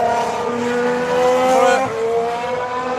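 A McLaren Formula 1 car runs on track during a test session, its high engine whine rising in pitch loud and steady for about two seconds, then dropping sharply as it passes, with a second engine tone beneath.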